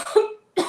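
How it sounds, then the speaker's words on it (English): A single short cough from an adult, close and fairly loud, followed by a brief pause and the start of a second cough. "I'm going to cough a little"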